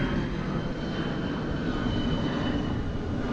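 A steady, broad engine roar of an airplane passing overhead, loud and continuous with no voices.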